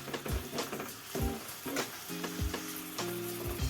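Fenugreek chops mixture frying in a pan, with a steady close sizzle broken by several soft scrapes and stirs of a spoon against the pan.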